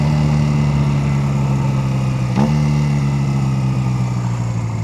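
A Honda Rebel bobber motorcycle with a loud aftermarket exhaust runs at a steady idle close by, a deep continuous throbbing hum with one brief blip of revs midway.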